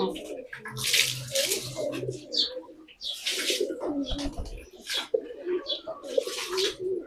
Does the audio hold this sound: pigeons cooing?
yes